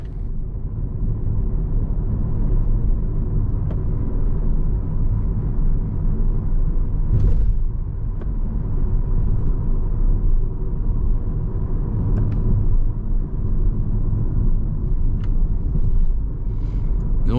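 Proton X50 SUV with a wet 7-speed dual-clutch transmission driving on the road, heard from inside as a steady low engine and road rumble with faint, barely noticeable shifts.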